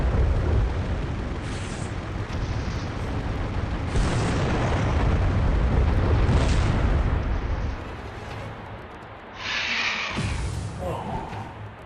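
Flak cannons blowing up in a flying dinosaur-hunting video game, heard as a dense, continuous roar of booming explosions and gunfire with several sharper bursts, loud and sustained throughout.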